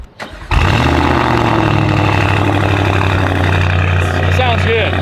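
Audi RS7 with upgraded turbos and exhaust cranking over and firing into a loud, deep, steady idle, close by, after a brief starter whir, with faint talk under it.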